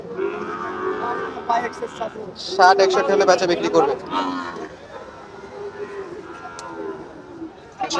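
Cattle at a border-area cattle market on the India–Bangladesh frontier, with a loud nearby moo rising in the middle while someone talks over it and market voices continue around.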